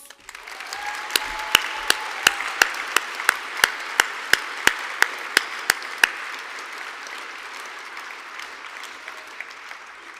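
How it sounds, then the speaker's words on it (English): Audience applause fills a degree ceremony hall, a sustained wash of clapping with a string of sharp, regular claps close by standing out over the crowd before they fade. "Let's give all our graduates another round of applause"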